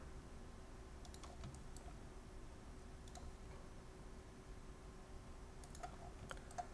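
Faint computer keyboard typing with scattered quiet clicks at about 1, 3 and 6 seconds over steady low background hum, recorded while drawing a three-point arc in CAD software.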